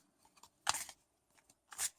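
A Joie de Vivre tarot deck shuffled on a table gives two quick, close riffling bursts separated by soft card taps, quiet overall.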